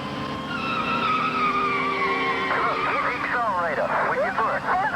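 A car brakes hard on a road, tires squealing and skidding loudly for several seconds in a wavering, rising screech.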